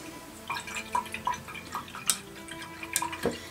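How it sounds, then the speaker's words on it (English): An acrylic paintbrush is rinsed in a container of water, giving faint, scattered drips, light splashes and small taps against the container in a quiet setting. "So I'm going to wash my brush."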